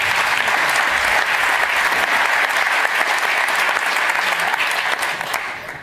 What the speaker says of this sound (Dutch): Oké, applaus voor onze gasten.